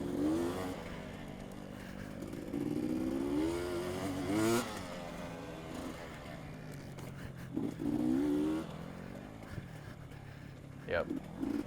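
A four-stroke dirt bike on a trail race course comes up close behind, its engine rising and falling through revs in repeated surges, while a rider talks over the noise.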